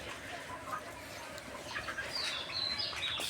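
Layer hens in low-cost wire cages cluck and chirp softly in the background of a poultry shed, a faint, scattered chorus of bird calls over steady ambient noise.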